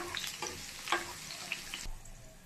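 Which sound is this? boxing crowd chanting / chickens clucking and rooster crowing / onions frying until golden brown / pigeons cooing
onions frying until golden brown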